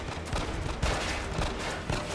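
Gunfire in The Evil Within 2 video game comes as dense, loud, continuous bursts of shots over a short span, with no talk.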